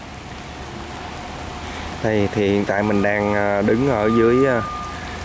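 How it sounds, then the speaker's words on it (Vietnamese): Heavy rain pours steadily beneath the Phong Châu bridge in Vietnam, a dense, constant hiss that continues throughout while someone talks over it partway through. "trời hiện tại đang mưa mà hiện tại thì đang nặng hột luôn các bạn đó"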